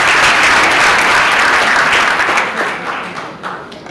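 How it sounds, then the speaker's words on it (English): Graduates and guests at a banking and finance institute graduation clap loudly and densely, the applause thinning out and fading over four seconds. "Another kudos and applause for you."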